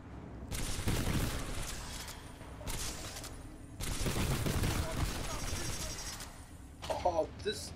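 Bursts of rapid gunfire from a weapon in the sci-fi shooter Titanfall 2, loud, close and sustained in two long volleys with short gaps and a brief clatter at the end, with a voice under it.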